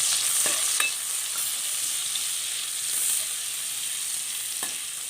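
One teaspoon of washed cumin seeds sizzling in hot oil in a pan, a close, steady bright crackle and hiss with a few stirring scrapes and clicks, no voices.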